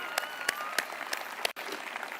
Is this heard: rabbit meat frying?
no